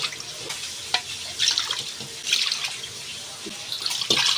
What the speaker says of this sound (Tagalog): Ilagay ko dito yung aking kakang gata.